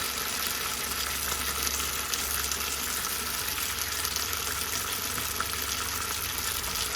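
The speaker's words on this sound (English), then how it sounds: "Give it a stir through" Devilled sausages stirred through their sauce in a single pot, giving a steady, even sizzle and bubbling fry with soft stirring underneath, continuous and moderately quiet throughout.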